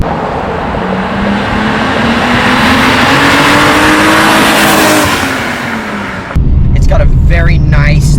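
A 1996 Alfa Romeo 155's V6 engine revs loud and close, its pitch climbing and easing back, then cuts off abruptly as a voice briefly takes over.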